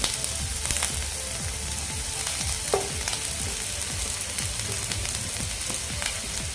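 Pieces of fresh coconut frying and being stirred in a pan, a busy, close crackle and sizzle with repeated scraping strokes of a spatula in a loose rhythm, no one talking.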